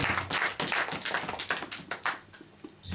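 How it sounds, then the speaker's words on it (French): Church congregation clapping at a bilingual French-English service, a burst of irregular hand claps over the first two seconds that thins out and fades toward the end. "Let us clap for this word."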